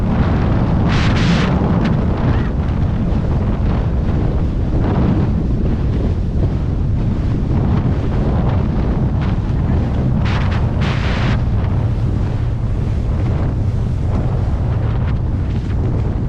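A small boat pounds through close, choppy waves on the way to a sandbar, a loud continuous roar of wind buffeting the microphone over rushing water and hull thumps, with no talking.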